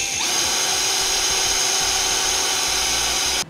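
A power drill bores a pilot hole into the side of a 2017 Chevrolet truck bed, whining loudly and steadily for about three seconds before cutting off abruptly.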